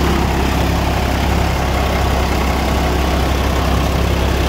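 A Swaraj 963 FE tractor engine runs steadily at idle, a loud continuous low rumble close by with no pauses.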